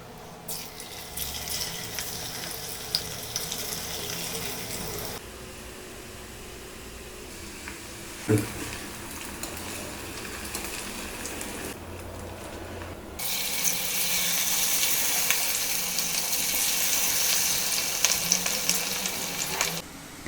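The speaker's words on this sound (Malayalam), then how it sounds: "ബാക്കിയുള്ളതും കൂടെ വറുത്തെടുക്കും." Ivy gourd frying in oil in a kadai gives a steady, crackling sizzle. It quiets for a stretch in the middle, with a brief stir or clink, then swells louder and denser near the end.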